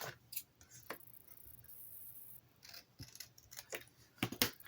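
Scissors trim the tab off a paper file folder divider in several quick, crisp snips, close and fairly quiet with short pauses between cuts, no talking.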